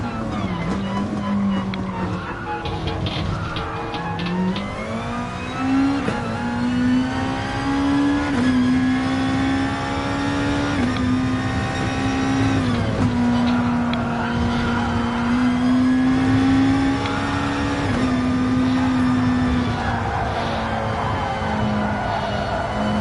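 Gran Turismo race car lapping Fuji in a Gr2 class car, a loud sustained engine drone rising and falling through gear changes with faint tyre scrub, steady throughout without pause.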